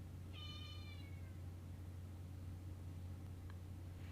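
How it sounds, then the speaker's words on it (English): A pet cat gives one drawn-out meow, faint and a little distant, over a constant low hum, followed by quiet. "meow! That's what my cat says."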